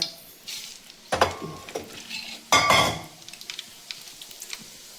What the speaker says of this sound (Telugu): ఇదిగోండి ఆయిల్ పెట్టేసుకున్న ఆవాలు, జీలకర్ర,